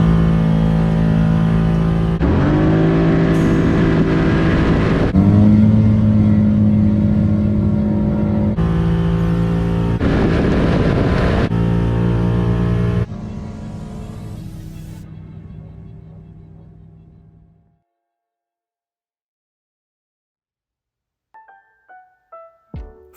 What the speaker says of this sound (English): try to make one more pull on the Malibu, only this time we're going to start in high gear